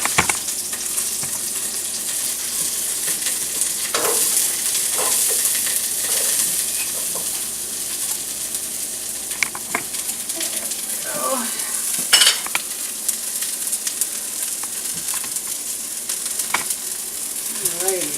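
Onions sizzle in oil in a pan for soup, making a continuous close frying hiss with intermittent stirring scrapes and a few light clinks; no talking.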